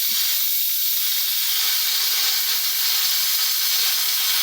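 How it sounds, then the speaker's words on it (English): An Instant Pot vents steam after cooking a pot roast, giving a loud, continuous, close hiss that holds steady for several seconds and then stops abruptly, with no talking. "So we're gonna let this steam release"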